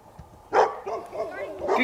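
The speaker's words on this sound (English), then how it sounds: "that's such a good dog" A female hunting dog out after mink and muskrat gives a few quick, excited yips and barks close by, mixed with an encouraging human voice.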